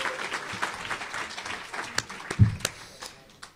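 Applause from the crowd at a Hall of Fame awards dinner, a moderate roomful of clapping with a few sharper claps standing out near the end.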